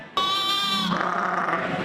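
A newborn lamb at a fair lets out a single close, nasal bleat with a wavering tone that lasts under a second, then breaks into a rougher, noisier tail.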